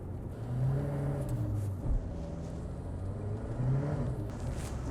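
A SAAB 900 accelerates hard with its tires spinning, the engine rising and falling in a loud, close, steady rumble and whir with no voices.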